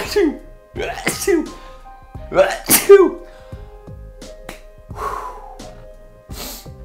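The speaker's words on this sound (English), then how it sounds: "I'm gonna sneeze." A voice speaks briefly before a sharp sneeze bursts out, followed by a few more short exclamations and breaths, close to the listener.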